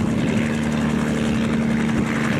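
A toy helicopter hums with a steady buzzing whir from its small motor and spinning rotor, heard close and continuous throughout with an even pitch and no talk over it.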